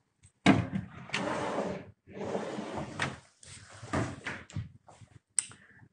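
Drawers in a student accommodation room slide open and shut several times, each with a rolling scrape and a thud, separated by short silent gaps, close to the listener.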